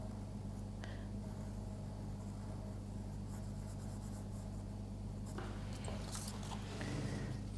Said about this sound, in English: I'm going to draw an eye.